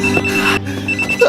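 A phone rings with a loud electronic ringtone, a short bright repeating melody over a low hum, ending with a rising chirp.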